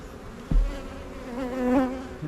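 Honey bees buzz around an open hive during a honey harvest, a close droning hum with one bee swelling louder as it passes near, after a brief thump.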